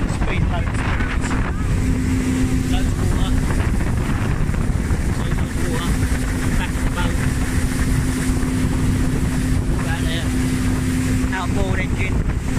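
A speedboat motor drones steadily with wind rushing past near Livingstone, Zambia, while people talk over the engine.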